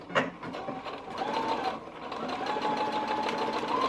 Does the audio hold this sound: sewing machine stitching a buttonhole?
yes